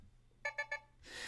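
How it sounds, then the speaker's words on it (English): Three short, evenly spaced electronic beeps serve as a price alert in Power E*TRADE trading software, clear and close, followed by a brief burst of hiss. "For the price alert, I can do a beep."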